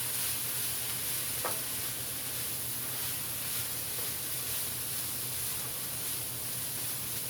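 Carrots and onions sizzle steadily as they fry in a pan, with a continuous close hiss and faint scraping of stirring, no talking.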